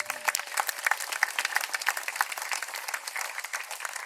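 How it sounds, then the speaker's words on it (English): An audience at a City Band summer concert applauds at intermission, with sharp individual claps standing out of a steady, dense wash of clapping and no voices over it. "Give her applause, please."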